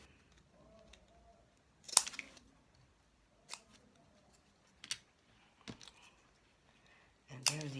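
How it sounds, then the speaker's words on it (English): Scissors snip the corners of a square cut from a plastic bottle, a few sharp, separate clicks spaced a second or two apart, close and quiet against a near-silent background. "which I'm also snipping the corners on"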